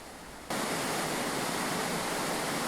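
Korbu waterfall in the Altai roars as a dense, steady broadband rush that cuts in abruptly and stays loud and constant, with no voices.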